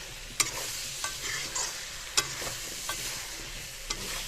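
Vegetables fry in hot oil in a pan and are stirred now and then, with a quiet steady sizzle broken by sharp scraping strokes of the spoon.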